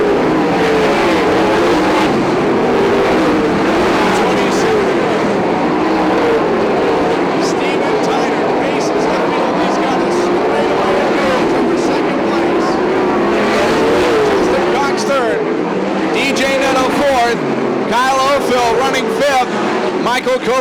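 Sprint cars roar around Sunset Speedway Park in a Western Sprint Tour race, a loud continuous engine din with rising and falling passes, under an announcer's steady commentary.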